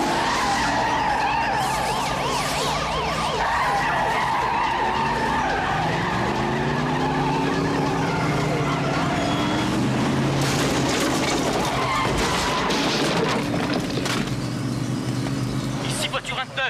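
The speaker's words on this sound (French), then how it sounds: "Les fumiers nous ont fait heurter un mur et nous sommes immobilisés." A hijacked police car skids hard with screeching tires during a chase through a city tunnel, engine roaring over loud, sustained tire squeal and impact noise, with voices speaking over it.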